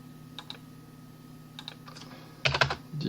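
Computer keyboard keys being tapped during drafting software work: a few scattered soft clicks early on, then a quicker cluster of louder keystrokes near the end over a steady low hum.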